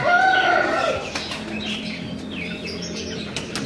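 Pigeons flap their wings in a loft, with several flurries of wingbeats alongside a few chirps and coos, fairly close and loud.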